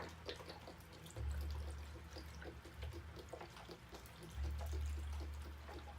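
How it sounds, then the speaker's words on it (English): Beef stock poured into a crock pot with roast, celery and carrots, a low liquid rush swelling twice into steady pouring, mixed with faint trickles and drips close by. "we are going to take the rest of our beef stock and pour it in"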